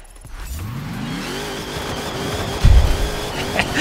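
A car engine in the racing video game Forza Horizon 4 revs hard with rising pitch sweeps through several gear changes, joined by a heavy low thump and roar partway through, loud and without talk.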